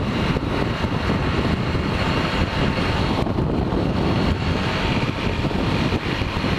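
Strong wind buffets the microphone in a continuous loud roar near a motorbike track lined with mango trees, steady and unbroken with no voices.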